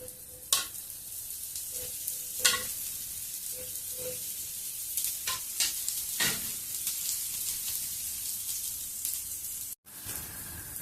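Pesarattu, a moong dal dosa topped with onion and coriander, sizzles steadily in oil on a hot pan, with a continuous bright hiss and occasional sharp pops and utensil taps throughout.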